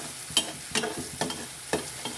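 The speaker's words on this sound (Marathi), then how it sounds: "कांदा छान परतून घेऊ।" Chopped onion with salt sizzles softly in a pan while a spoon scrapes and stirs it, with a few distinct stir strokes over a low, steady frying hiss.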